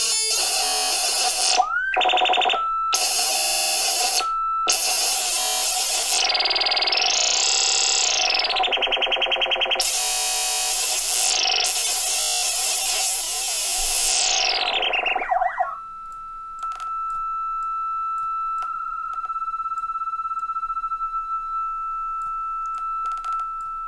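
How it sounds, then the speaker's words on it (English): Harsh digital aliasing artifacts from reverb coding, with bursts of distorted, beeping, sweeping tones that stop and restart, then a thinner steady whine with faint crackles. "And this is aliasing."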